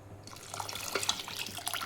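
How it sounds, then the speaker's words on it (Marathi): Hot water pours into thick, tempered toor dal, with garlic and turmeric in the pan. The water runs in a steady, close stream for under two seconds. "पाणी टाकायचे थोडंसं."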